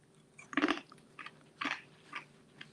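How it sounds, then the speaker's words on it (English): Crunchy cooked bacon being bitten and chewed at close range, with a loud crisp crunch followed by a few softer, spaced chewing crackles. "You hear that crunch? Look at this bacon, y'all."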